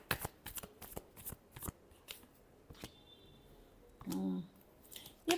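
A deck of tarot cards is shuffled close up in quick, crisp riffling bursts with short pauses between them, quiet and nearly alone, with a brief voice near the end.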